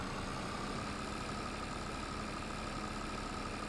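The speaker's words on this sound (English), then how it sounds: "We're four-wheel driving in our two-wheel drive tractor." A two-wheel drive tractor in Farming Simulator 22 drones with a steady, even engine hum that holds unchanged throughout, with no voices.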